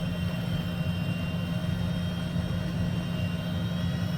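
HondaJet very light jet taxiing in the FlightFX flight simulator, a steady low turbine rumble with a faint high whine, continuous and even throughout with no talk.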